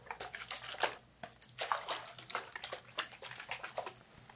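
Mint mineral-infused spring water sprayed from a bottle to dampen hair, heard as repeated short, close, soft hissing spritzes in an irregular rhythm.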